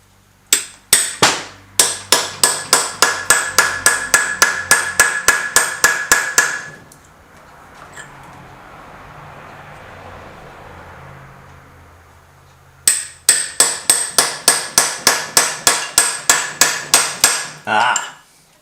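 A hammer strikes a sharp chisel in rapid, even blows to split a part on a 1959 BSA C15T motorcycle, two long bursts of loud close metallic clanks separated by a quiet pause.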